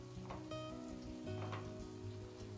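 Cluster beans cook in a pan with coriander and red chili powder as they are mixed, producing a soft, steady sizzle with light stirring, faint and close with no talking.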